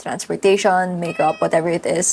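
A house cat meows repeatedly near the microphone, drawn-out pitched cries with a wavering tone, overlapping a person speaking.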